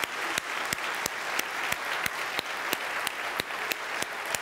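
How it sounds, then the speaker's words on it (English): Warm applause from a spiritual center congregation at a Burning Bowl and White Stone ceremony for the band and vocalists, steady dense clapping with regular sharper accents throughout, moderately loud and without talk. "give a very warm round of applause to our band, to our vocalists, to Eduardo up in the sound booth"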